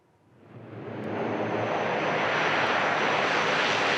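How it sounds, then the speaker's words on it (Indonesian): A US bomber landing in the Middle East, its jet roar swelling from quiet to a loud, sustained broadband rush within about a second, then holding steady and close with no voices. "Presiden Amerika Serikat Donald Trump membagikan video pesawat bomber AS mendarat di Timur Tengah."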